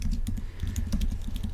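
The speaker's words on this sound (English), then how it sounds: "if you had a typewriter, it would have that typewriter noise." Rapid mechanical typewriter keystrokes clatter in a steady, uneven patter, a typing sound effect added to an animated typewriter or printer, fairly loud and close with no voices.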